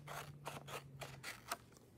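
Scissors snipping out a flamingo beak shape for a craft project, a quick run of about six or seven soft, close cuts over a couple of seconds, faint and with no talking.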